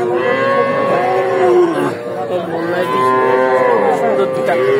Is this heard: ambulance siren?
no